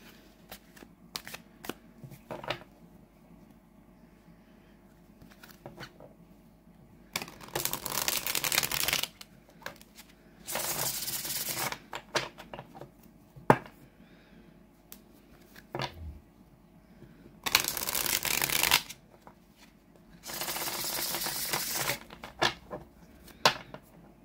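A Tarot of the Witch's Garden deck is shuffled in several riffling bursts, crisp papery whirs separated by quiet taps and card handling, close and without talk.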